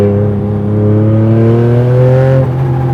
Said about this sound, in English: there is a small button here, which I give it a push, and some valves open in the exhaust